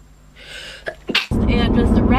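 A woman sneezes once, loud and close, after brief breathy gasps, followed by a burst of noisy sound.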